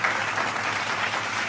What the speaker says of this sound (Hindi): तो आप युवा भाई हमको आदेशित कर दे ताली बजाकर